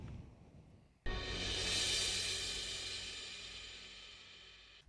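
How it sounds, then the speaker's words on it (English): A single cymbal swell sample rises from a sudden onset into a bright, sustained shimmer, then slowly fades, heard alone at a fairly soft level. "That's all it is, a cymbal swell."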